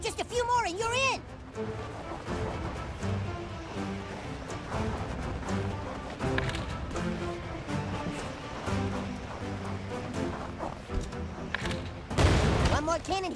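Booming cannon shots fire now and then over busy video game music and sound effects, with a loud blast near the end, while people talk throughout.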